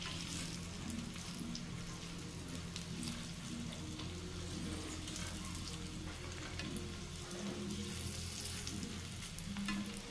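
Soya kebabs fry in a pan with a soft, continuous crackling sizzle, fairly quiet and even throughout, with faint low kitchen hum underneath and no talking.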